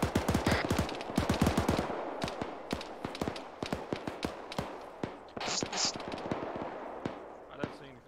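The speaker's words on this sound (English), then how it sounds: "Definitely hearing shots back behind it." Rapid bursts of gunfire in the military shooter game ArmA 3, dense crackling volleys at first, then scattered single shots and short bursts at middle distance, with a voice talking over part of it.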